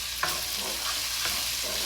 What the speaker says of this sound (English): On high heat in a wok or a pan, add vegetable oil. Add your desired amount of garlic.